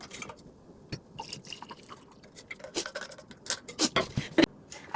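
A drink is poured into a glass indoors, with faint trickling, scattered drips and small clinks building in irregular bursts toward the end.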